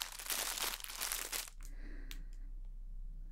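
Crinkly plastic rustling from a foldable cat tunnel toy, close and loud in busy crackling bursts for about a second and a half. Then it drops to a few faint scattered crackles.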